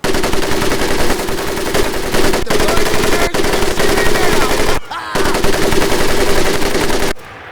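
Sustained automatic weapon fire in a Medal of Honor Pacific Assault Marine training scene, loud and nearly continuous rapid bursts with two brief pauses, near and dominant throughout.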